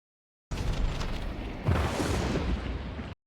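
A rumbling video game explosion bursts in from silence, a dense low roar that surges louder midway and holds steady for about two and a half seconds before cutting off abruptly.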